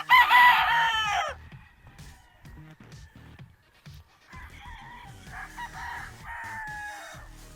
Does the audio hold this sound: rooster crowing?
yes